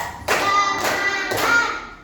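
A second-grade class in an Indonesian primary school claps together three times, each a sharp unison burst of many small hands in a slow, even rhythm, close and loud in the classroom.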